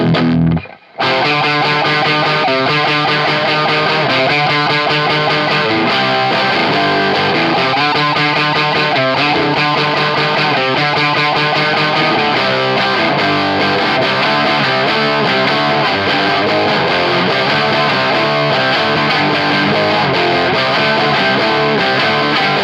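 An electric guitar plays through The Color Box overdrive pedal, a loud, gritty, saturated tone with chords and riffs sounding continuously after a brief silent start, with no talking over it.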